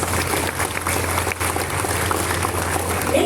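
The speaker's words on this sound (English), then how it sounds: "A round of applause for all the athletes" An audience applauds athletes and medal winners at a scholarship award ceremony, with dense, steady clapping that stays loud and continuous throughout and a low hum underneath.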